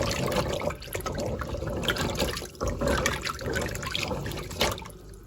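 Drained pumpkin pieces are poured into boiling sugar syrup, giving a continuous close splashing and liquid churning with bubbling and a few louder plops, and no voices.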